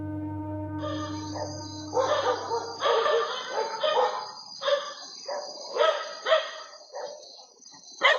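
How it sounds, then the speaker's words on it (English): A pack of dogs barks at night, several overlapping bursts of barking at moderate distance, repeated irregularly after a steady low hum at the start. "a pack of dogs can be seen and heard barking at something in the distance"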